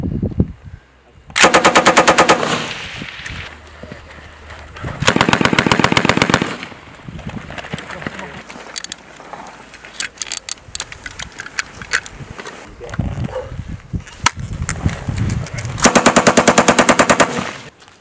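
An infantry machine gun fires during a live-fire support-by-fire exercise: three loud, sustained bursts of rapid, evenly spaced shots, separated by quieter stretches of scattered distant gunfire and range noise.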